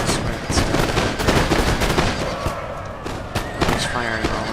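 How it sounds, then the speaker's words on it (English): Musket volleys crackle along the battle lines in Napoleon: Total War, dense overlapping shots with scattered louder cracks throughout, under a voice talking. "Just firing all over the lines."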